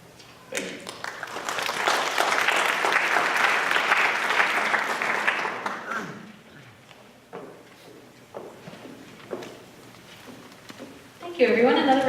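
An audience claps after a financial prowess presentation, a full burst of applause lasting about five seconds before fading into scattered claps, shuffling and a voice speaking, then a brief louder noise at the end.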